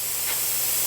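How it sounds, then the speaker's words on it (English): Compressed shop air hisses into an air brake spring chamber in a steady, loud, continuous rush that fills the whole moment without pause. "So we're just going to take shop air, load the spring brake"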